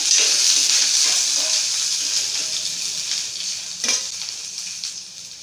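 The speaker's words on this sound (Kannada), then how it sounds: "ಹಾಗೆ ಕರಿಬೇವೆಲ್ಲ ಹಾಕಿ ಚೆನ್ನಾಗಿ ಫ್ರೈ ಮಾಡ್ಕೊಳ್ಳೋಣ." Onions and curry leaves fry in a pan with a steady bright sizzle. A brief stirring scrape cuts in partway through, and the sizzle gradually eases off. No one speaks.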